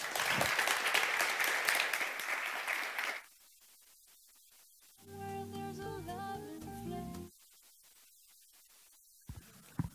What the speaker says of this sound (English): The round of applause.